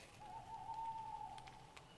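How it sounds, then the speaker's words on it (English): A single long, steady owl call at night near a tent in the woods, a soft sustained hoot lasting over a second, with a few faint clicks and rustles around it in a quiet setting. "That's just the owls."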